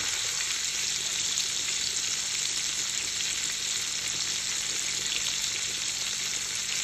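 Spices fry in a hot pan with oil while being stirred, a loud, dense, steady sizzle that carries on without pause, close to the listener and without any talking.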